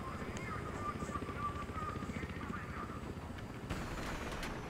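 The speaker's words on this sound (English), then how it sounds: "Another helicopter." A helicopter in the video game Battlefield Hardline gives a steady, droning rotor whir that carries on without a break, with faint voices in the background.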